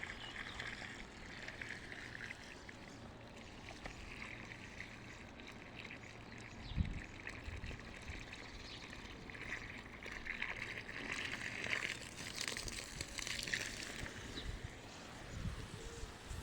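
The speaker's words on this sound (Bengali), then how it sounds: "এই যে দেখেন কেমনে পানি দিই" Water is sprinkled like rain over plants in hot sun, making a soft, continuous splashing hiss at moderate distance, with a few small knocks along the way.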